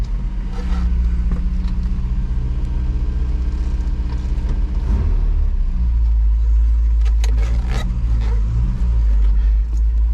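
A 1987 Toyota 4x4 pickup truck driving on a rough turnaround, with a continuous loud low engine rumble and road noise throughout and a few clunks and rattles over bumps.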